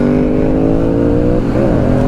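A motorcycle engine held at high revs gives a loud, close, sustained drone that wavers briefly near the end before steadying again.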